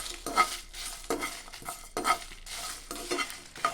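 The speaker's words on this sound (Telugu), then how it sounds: "వీటిని చిన్న మంట పైన దోరగా వేయించుకోవాలి." Coriander seeds, dry red chillies, cumin and garlic dry-roasting in a pan over a low flame, giving repeated soft scraping stirs with faint crackling, close and alone with no talk.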